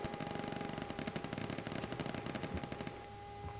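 Rapid gunfire in the battle royale game H1Z1, a dense, fairly quiet string of shots sounding continuously before easing off near the end, with no talking.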